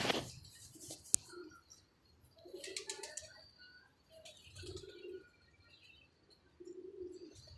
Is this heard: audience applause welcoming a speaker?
no